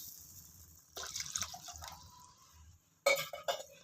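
Half a litre of water is poured into egg gravy in a cooking pot, heard as two short splashing pours with faint drips between them, close and fairly quiet.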